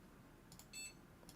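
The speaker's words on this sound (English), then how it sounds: "There's the beep." A computer motherboard gives a short, faint electronic beep at startup, a brief high tone sounding alone over quiet background hum.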